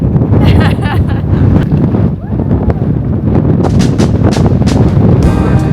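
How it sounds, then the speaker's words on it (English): Loud wind blasting across the microphone in heavy, continuous low rumbling gusts, with sharp crackling bursts close by, on a hike near Manchester. "It's a bit windy."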